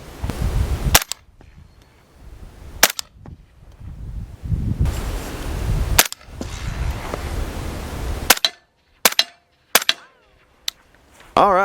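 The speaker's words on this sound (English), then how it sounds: "let's run a few shots and see what this thing sounds like." A series of suppressed rifle or pistol shots through a Resilient Suppressors Simple Man can, sharp close reports at uneven intervals with wind and outdoor ambience between, a quick cluster near the end.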